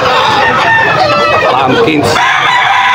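Chickens clucking and crowing at a rainy Bocaue, Bulacan poultry market, close and loud, with people talking over them.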